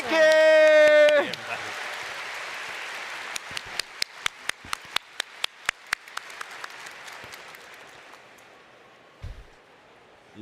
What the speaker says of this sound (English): One more big round of applause, please.